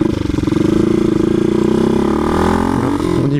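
An old 125cc motorcycle accelerates up close, its engine note climbing steadily in pitch as the revs build, loud and continuous throughout.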